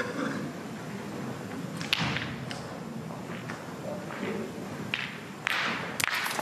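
In a tête-à-tête pétanque match, a thrown boule strikes another with a sharp crack, among a few other knocks and thuds over quiet outdoor ambience.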